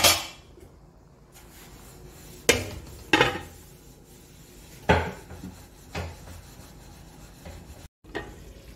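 A lid goes onto a pan of small puthi fish cooking with a little water: a few separate metallic clanks and scrapes, close by, with quiet simmering between them.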